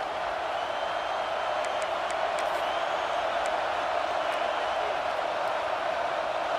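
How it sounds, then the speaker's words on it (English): A roaring football stadium crowd at a Penn State versus Texas game, a dense steady wall of noise with faint whistles and whoops poking through, loud and continuous with no break. "with this place rocking, the crowd forces a false start"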